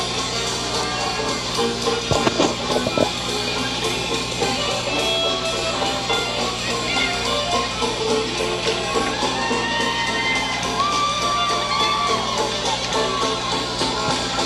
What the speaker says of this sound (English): Get a nice hand from the crowd.